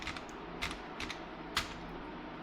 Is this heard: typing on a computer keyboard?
yes